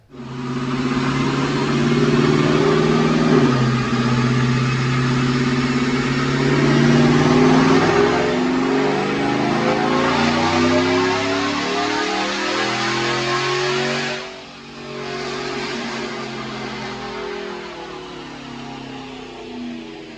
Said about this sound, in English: Watch this dyno pull.